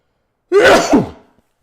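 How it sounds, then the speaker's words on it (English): A single loud, close sneeze bursts out and fades quickly, surrounded by silence. "I'm going to sneeze."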